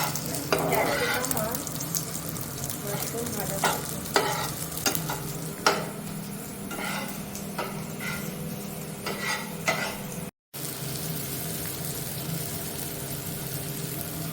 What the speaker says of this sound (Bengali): মাশরুমগুলো অ্যাড করা দিচ্ছে এবার।